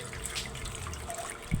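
Water drains and trickles from washed chicken curry ingredients in a kitchen sink, a soft, steady watery patter that ends in a brief louder splash.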